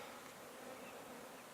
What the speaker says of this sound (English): they're buzzing around